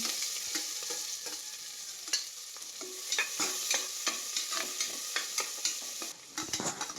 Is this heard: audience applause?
no